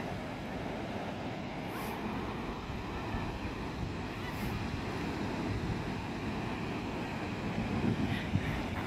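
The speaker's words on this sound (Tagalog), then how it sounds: "Very relaxing yung waves. Maalon." Ocean surf rolls onto Shek O Beach in Hong Kong in a steady, continuous wash, with wind buffeting the microphone throughout and no voices.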